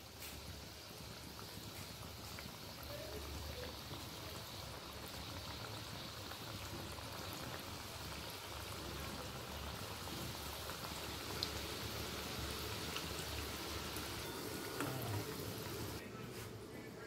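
Bengali savoury snacks deep-frying in hot oil over a low flame make a soft, continuous bubbling sizzle that runs steadily and fairly faintly throughout, with faint talk.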